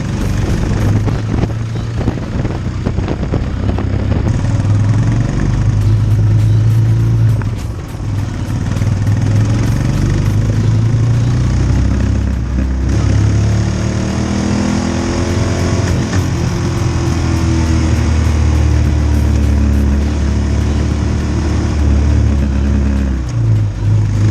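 A Royal Enfield motorcycle engine runs continuously while riding, a loud, steady low thumping drone with shifting pitch as the revs rise and fall through the gears, with no talk over it.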